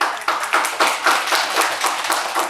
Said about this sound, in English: So please give them a big applause for their.